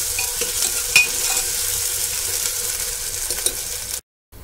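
Onions frying with a tablespoon of ginger garlic paste for black lentil dal crackle and sizzle close by while a spoon stirs, then the sound cuts off briefly near the end.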